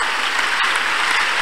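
Church congregation clapping hands together, a brief dense burst of steady, loud applause with no voices over it.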